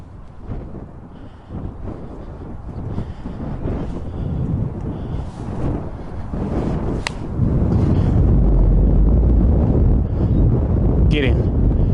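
Hard wind on a golf course: gusty, rumbling wind buffeting the microphone, growing heavier toward the end, with a person talking over it and a sharp click midway.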